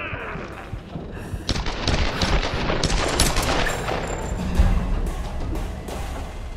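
Rapid, dense gunfire in the Tomb Raider video game, a loud run of sharp overlapping shots that keeps going across the clip, with no voices.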